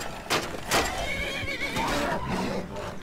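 A horse neighs and whinnies in the Skyrim video game, with the Forgotten Island mod loaded. The calls come in loud bursts, with clip-clop hoofbeats and other game sounds beneath them.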